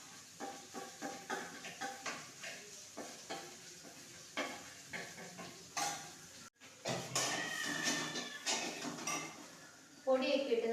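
Dried prawns mixed with spice powders, meat masala and chilli powder in a pan: rhythmic spoon scrapes and clacks in quick succession, then a denser burst of rattling and sizzling near the end, with speech in places.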